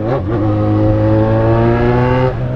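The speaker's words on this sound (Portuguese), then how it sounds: "O motor que tá esticado, o bagulho já deslancha, velho." A Yamaha XJ6 motorcycle engine holds a loud, steady high rev through its exhaust, a strong droning whine close by that climbs briefly at the start and drops away at the end.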